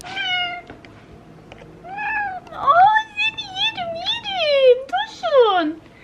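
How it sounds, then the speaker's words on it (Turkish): Cat meowing repeatedly at close range, a series of rising and falling plaintive meows of varying length and loudness, with a few brief quiet sounds between them. "Hayvan miyavlamaya başladı ya."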